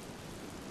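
Steady rain in the survival game Miasmata, a dense, even hiss of falling water filling the moment with no other sounds standing out.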